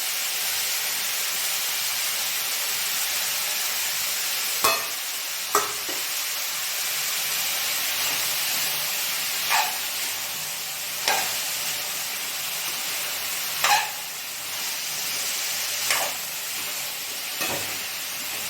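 Cauliflower curry with red chilli powder being stirred in a frying pan, a steady sizzle and hiss running throughout with a handful of sharp spoon scrapes and clinks spaced every couple of seconds, close and alone.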